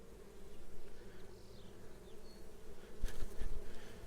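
Low, constant drone of many honeybees buzzing close by in an open hive as brood frames are inspected, with a few sharp knocks and rustles near the end.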